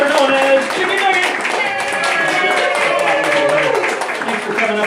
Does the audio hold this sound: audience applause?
yes